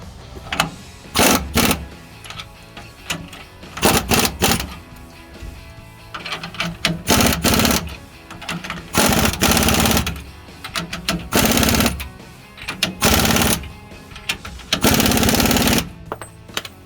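A power impact tool retightens the U-bolts on a 2007-2018 Chevrolet Silverado 1500 fitted with a Supreme Suspensions 2-inch billet lift kit. It fires repeated loud, rattling hammering bursts separated by short pauses.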